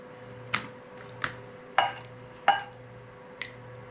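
Cooled chili is scooped from a pot into containers, giving five soft, separate clunks and scrapes spaced about a second apart against a quiet kitchen background.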